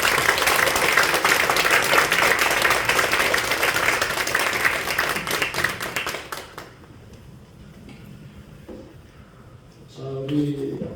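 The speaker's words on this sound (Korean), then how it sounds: "우리 전도부장님을 박수로 여러분들이 맞이해 주시면 감사하겠습니다" An audience at a denominational evangelism policy forum claps to welcome a speaker, loud dense applause for about six seconds that thins into scattered claps and fades, followed by a quiet room and a brief voice at the end.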